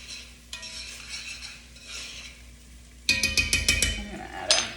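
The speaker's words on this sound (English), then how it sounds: "All right, stir those for about a minute" Diced jalapenos stirred in a pan over low heat with a little oil: a quiet, steady hiss at first, then from about three seconds a run of loud, close scrapes and metallic clinks of a utensil against the pan.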